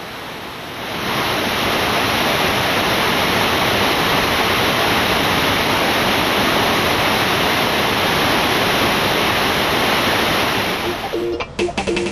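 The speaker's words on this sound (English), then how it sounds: "this is the White River at Magpie Falls" A waterfall at Magpie Falls on the White River roars in a steady, dense rush of falling water, constant and loud for the whole stretch before a brief disturbance at the end.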